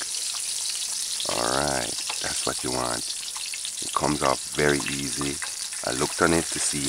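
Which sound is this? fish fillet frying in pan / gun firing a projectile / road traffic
fish fillet frying in pan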